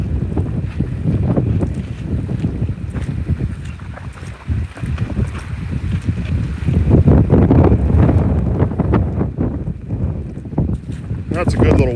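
Strong wind gusts roar and buffet the microphone beside a lake during Hurricane Francine, with rushing, rumbling noise that swells and eases over twelve seconds, loud and continuous.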